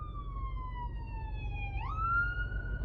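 An emergency siren wails steadily along a street, its tone sliding lower and then jumping back up as the vehicle passes, loud over a low rumble of road traffic with no talking.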